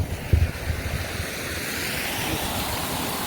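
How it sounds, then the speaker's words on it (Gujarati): River water runs beside a village road in Gujarat, a steady rushing wash that is fairly faint and continuous, with some wind noise and no talking. "પાણીનો અવાજ કેવો મસ્ત ખળખળ પાણી જાય છે."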